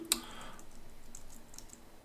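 Quick, light key clicks on a computer keyboard while someone codes a custom game with PixiJS: one sharper click at the start, then a few softer scattered taps close by in a quiet room.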